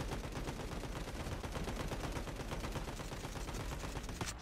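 Automatic rifle fire in Call of Duty Mobile, a rapid, unbroken stream of shots with dense crackling bursts lasting the whole moment, steady and fairly quiet.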